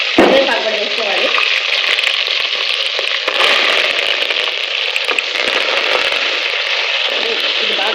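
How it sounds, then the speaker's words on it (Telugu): Onions, green chillies and curry leaves sizzle in hot oil with mustard seeds for a Nellore fish curry, a loud, steady crackling fry close up that runs throughout with occasional stirring. "ఆయిల్ వేడెక్కడం వల్ల త్వరగా బాగా ఫ్రై అయిపోయింది."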